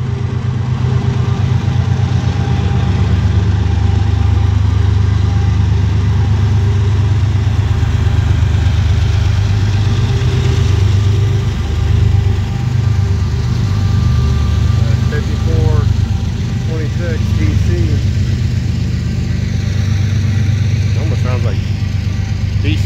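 A CSX diesel locomotive idles on a mainline in a steady, low rumbling drone that holds throughout, and a voice talks over it for much of the time.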